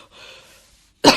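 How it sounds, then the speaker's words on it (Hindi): A woman coughs hard once in a single loud, close burst at the end, after a stretch of faint breathy noise. "मुझे बहुत जोरों से खांसी आ रही है"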